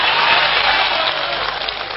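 An audience at a Hindi poetry recital claps steadily, producing dense, loud applause that fills the space without voices.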